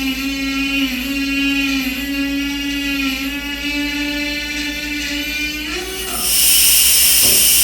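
A steady mechanical drone from an SCBA filling station runs throughout, then a loud burst of rushing, hissing air cuts in near the end as the regulator purges excess pressure, and continues.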